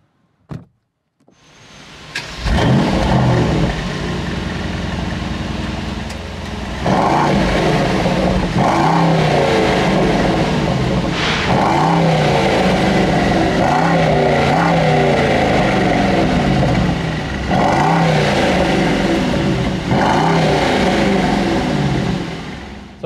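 A Mercedes SL 63 AMG 4MATIC starts up and drives, a brief click before the engine catches and settles into a loud sustained rumble, with surges as it accelerates and shifts through gears.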